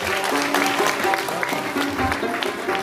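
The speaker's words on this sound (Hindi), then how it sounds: "इनके लिए भरपूर तालियां हो जाए बाबा साहब के लिए" A crowd at a ceremony honouring students who qualified for NEET claps steadily and warmly, a continuous round of applause with faint voices underneath.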